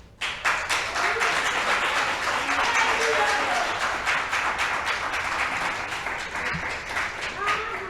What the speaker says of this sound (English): I want that round of applause for Vicente Hernandez again.